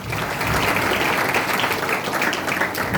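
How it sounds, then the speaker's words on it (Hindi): A church congregation applauds during a sermon, a dense, steady wash of many hands clapping at full volume for the whole stretch with no gaps. "आइए एक दूसरे के लिए तालियां बजाएं।"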